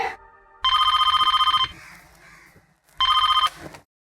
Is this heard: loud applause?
no